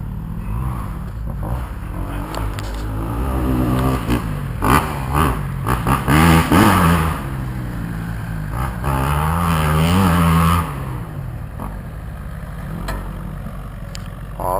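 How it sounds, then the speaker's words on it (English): A Kawasaki KX250F motocross bike rides through mud, its engine droning steadily with rising and falling revs, rough and close throughout. "Mud riding was always my favorite."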